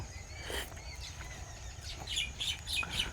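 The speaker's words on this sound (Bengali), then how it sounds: "এই পাখির কিচিরমিচির শব্দ" Birds chirp around date palm trees in a rural Chuadanga area in the evening, giving short, bright, scattered tweets over a low background rumble that grow busier toward the end.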